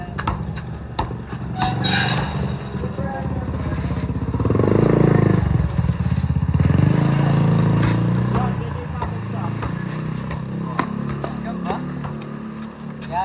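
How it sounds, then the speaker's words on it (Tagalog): A motorcycle engine rumbles past nearby amid street noise, swelling loudest in the middle and fading again, with people talking over it throughout. "Ay, may motor."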